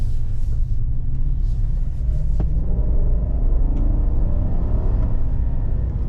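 A 2023 Chevrolet Silverado ZR2 V8 pickup truck cruises on a road with a steady, loud low engine rumble and road roar, briefly shifting tone midway as it drives on.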